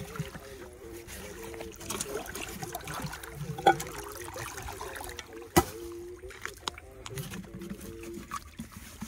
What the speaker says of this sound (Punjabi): ਨਹਿਰੀ ਪਾਣੀ ਆਪਣੇ ਖੇਤ ਦੇ ਵਿੱਚ ਪੈਣਾ ਸ਼ੁਰੂ ਹੋ ਚੁੱਕਿਆ